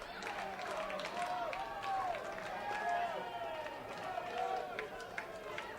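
A minor league baseball crowd rallies behind a batter, a steady murmuring roar with scattered claps that stays fairly even and distant throughout.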